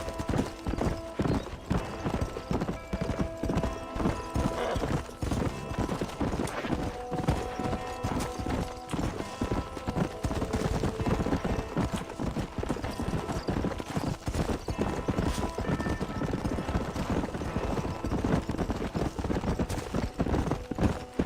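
Horse hooves clip-clop steadily and up close throughout a ride in an open-world video game, the rhythmic footfalls continuous under layered game ambience.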